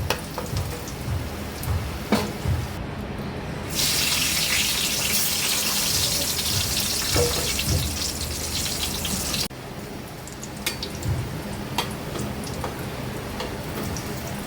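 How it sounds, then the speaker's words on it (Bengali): Potatoes frying in hot oil give a bright, steady sizzle that swells for several seconds in the middle, with softer crackles and pops before and after. "আলুগুলো ভাজা হয়ে গেছে, তুলে নিচ্ছি।"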